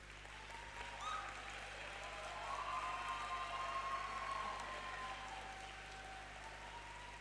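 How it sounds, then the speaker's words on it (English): Graduates applauding themselves at a university graduation ceremony, a soft, sustained patter of many hands clapping in a large hall, fairly distant and even, with a faint tonal hum running beneath. "Give yourselves a round of applause."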